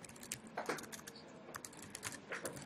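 A computer keyboard clatters with quick, irregular keystrokes in continuous bursts of typing, quiet and close, with no talking.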